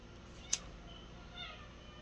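A house cat gives a single short, faint meow once, in an otherwise quiet room with a low background hiss.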